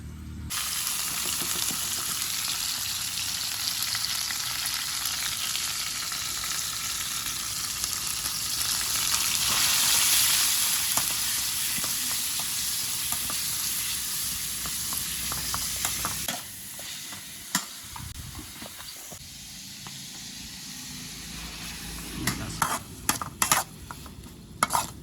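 Meat and chopped garlic stir-fried in a pan give a steady loud sizzle for about sixteen seconds, then a quieter frying hiss broken by sharp scrapes and clinks of a utensil against the pan.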